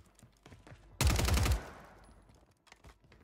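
STG 44 gunfire in Warzone 3, a single short, loud burst of rapid automatic shots that cuts in sharply over quiet game ambience and fades with a brief tail.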